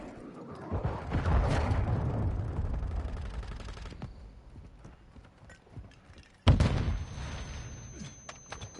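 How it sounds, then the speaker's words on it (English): A friendly cruise missile strike in Call of Duty Modern Warfare 2 multiplayer: a long, rumbling roar swells and fades, then a sudden loud blast hits and trails off into a crackling tail. "Friendly cruise missile deployed."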